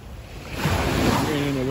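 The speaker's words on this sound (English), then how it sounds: "as you can see these waves rolling there from the" Waves from a ferry's wake wash onto a beach with a rising, hissing surge that swells and holds, mixed with light wind noise close to the microphone.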